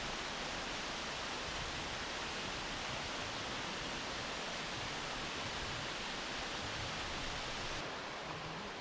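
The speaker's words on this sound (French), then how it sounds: "on se retrouve au pied de cette sympathique cascade" Waterfall roaring at the foot of a cascade in Auvergne, heard from very close as a dense, unbroken rush of white water filling everything, steady and loud from start to finish.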